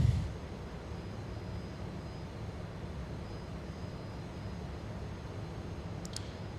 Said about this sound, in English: Just waiting for the RPM to fully drop.